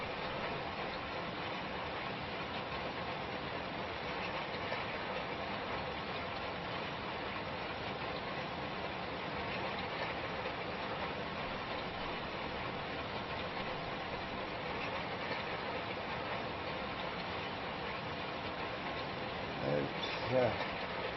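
A tractor engine idles and runs steadily while rolling a field in Farming Simulator 25, producing a continuous, even mechanical drone with a faint rushing texture that holds for the whole stretch, with a small bump near the end.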